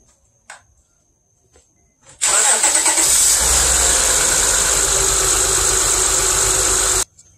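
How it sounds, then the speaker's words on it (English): A car engine cranks and catches during an ignition and spark plug test, jumping from near silence to a loud, steady running roar that holds for about five seconds before cutting off abruptly, close to the engine. "start the car"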